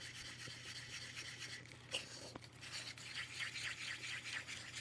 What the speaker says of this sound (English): Just get it all mixed in there as good as you can.